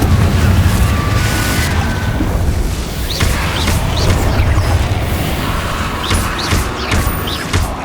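Confringo blasting spell in Hogwarts Legacy, loud booming blasts and bursts with crackling impacts over a rumbling combat din, several hits across the span.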